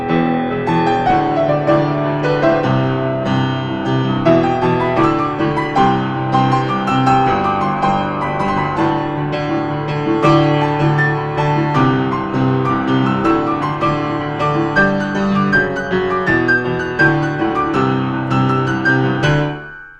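Solo piano plays the guitar solo of a song on its own, a steady, full stream of melody over left-hand chords that keeps going without a break.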